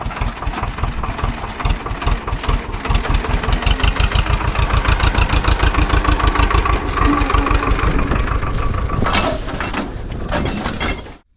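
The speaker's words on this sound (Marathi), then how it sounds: "ट्रॅक्टर लावला इकडं" A tractor's diesel engine idles steadily and close by with a rapid, regular chugging beat, then revs briefly near the end before cutting off.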